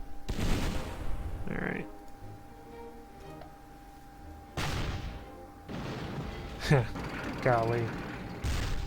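Mortar and artillery fire in the WWII strategy game Battle Academy 2 on the Eastern Front, several sharp booming blasts spread across the stretch, mixed with mechanical clanks while someone talks over them.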